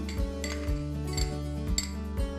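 Spice masala is mixed into a cup of yogurt in a bowl for vegetable korma, with a spoon giving soft, regular clinks and scrapes against the bowl at close range.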